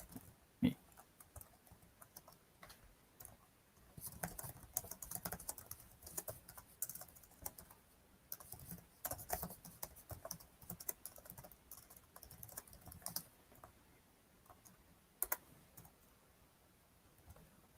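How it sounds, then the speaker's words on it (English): Rapid typing on a computer keyboard at a desk, with dense bursts of key clicks broken by short pauses, close and fairly quiet, with no talk. "Serves me right for typing too fast."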